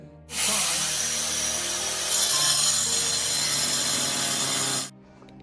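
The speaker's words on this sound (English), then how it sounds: "this is the blade I'm going to use to cut my porcelain tiles, because this one is a diamond blade" An angle grinder fitted with a diamond blade cuts porcelain tile. It is a loud, continuous, harsh grinding whine that starts abruptly, holds steady for about four and a half seconds, then cuts off.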